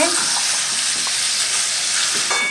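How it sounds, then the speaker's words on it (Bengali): Duck meat frying in a pan for a thin winter duck curry, a loud, close, continuous sizzle with faint stirring movements and no talking. "মাংসটা এখন ভাজা হচ্ছে"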